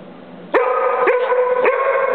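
A dog barks three times in quick succession, loud and close. The sharp barks come at an even rhythm over a quiet background.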